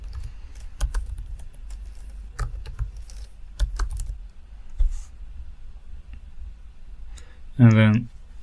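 Typing a website address on a computer keyboard, a run of scattered key clicks and taps spread across several seconds, moderately close, with a brief burst of speech near the end.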